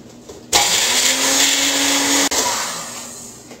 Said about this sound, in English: like I said, I'm using my magic bullet